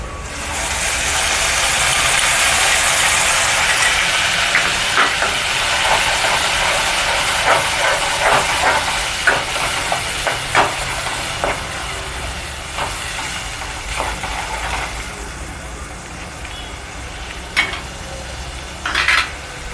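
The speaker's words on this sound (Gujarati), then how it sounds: "જે ટમેટા કાંદાની પ્યોરી બનાવેલી છે તે વઘારી લેશું" Steady sizzling and hissing of tomato-onion puree frying in hot oil, loud and close, with occasional crackles and utensil clinks.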